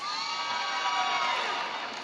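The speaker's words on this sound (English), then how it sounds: "How about a round of applause for them" High school graduation crowd in 2025 cheering and whooping with applause, a dense steady roar of many voices that stays loud for the whole stretch.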